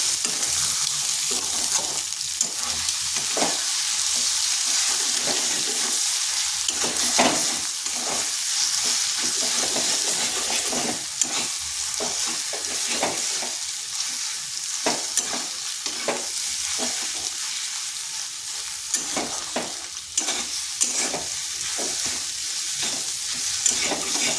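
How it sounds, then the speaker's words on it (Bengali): Egg being stir-fried with pointed gourd in a pan, a steady sizzle of frying carried through the whole stretch under repeated scraping and stirring strokes, close and fairly loud with no talk. "এই ডিমটা এরপরে পটলের মধ্যে মিশিয়ে নিচ্ছি, মানে ভুজা করে নিচ্ছি"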